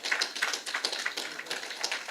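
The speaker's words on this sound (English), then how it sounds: "Give him a better round of applause than this." Sparse, faint applause for a planning committee member at a cadet company gathering, a thin patter of a few hands clapping unevenly, distant and quiet, with no talk.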